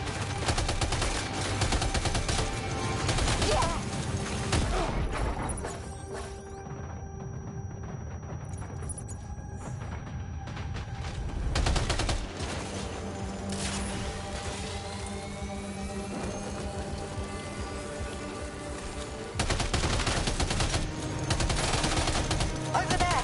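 Heavy gunfire in the video game Death Stranding 2: On the Beach, dense bursts of rapid automatic shots filling most of the stretch, easing into a quieter lull midway before loud firing resumes, with faint voices at times.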